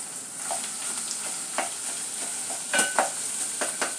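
Cold minced meat sizzles steadily in a hot pan for spaghetti sauce, with several sharp spatula scrapes and taps breaking through the soft crackle.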